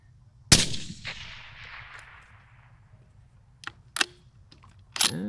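A single sharp crack from a .243 Winchester Savage rifle rings out at a 300-yard target range, leaving a long echoing tail, and fainter sharp clicks follow a few seconds later.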